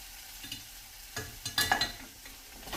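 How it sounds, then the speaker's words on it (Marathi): Soft sizzling in a pan of salted tempering with several scraping, clattering stirs as potato chunks are turned, quiet and close, with no talking. "आणि हे सगळे बटाटे मी ह्याच्यात टाकत आहे आणि मस्तपैकी ह्याला ढवळून घेत आहे"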